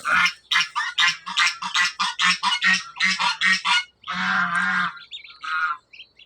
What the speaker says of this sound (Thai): ห่านก็จะเสียงดังรบกวนหน่อยนะครับพี่น้อง